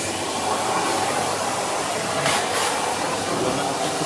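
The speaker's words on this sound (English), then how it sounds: "Careful where my hoover goes." A hoover with a brush attachment runs continuously under model train set tables, a steady loud close roar with a brief surge midway and no talking.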